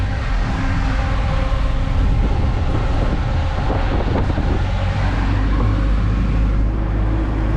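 A baht bus, an open-backed pickup taxi, climbs the hill road to Wat Prathet Doi Kham near Chiang Mai, its engine a constant heavy rumble under loud wind buffeting, with no break from start to finish.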